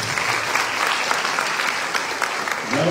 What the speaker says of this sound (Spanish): ¡Unas fuertes palmas entonces!